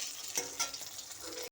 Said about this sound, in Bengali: এরকম করে সব মাছটাকে আমি এরকম লাল লাল করে ভেজে নিব।